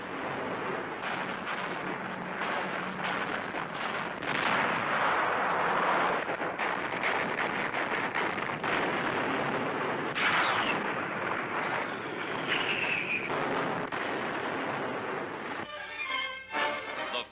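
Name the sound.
anti-aircraft fire against bombers in 1943 newsreel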